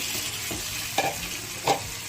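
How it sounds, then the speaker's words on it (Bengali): Fried potatoes tipped into a pan of sizzling spice paste for a Bengali vegetarian aloo dum, a steady frying hiss broken by two short clattering knocks as the pieces land and are stirred. "ভেজে রাখা আলুগুলো দিচ্ছি।"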